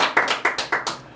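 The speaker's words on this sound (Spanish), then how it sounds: "Un aplauso al evangelista Daury Pimentel." A small group claps for a guest evangelist being introduced at a church interview, about six distinct claps in an uneven rhythm, close and fairly loud, with no voices.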